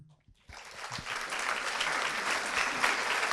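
After a brief quiet moment, a lecture audience breaks into sustained applause, a dense steady clatter of many hands clapping.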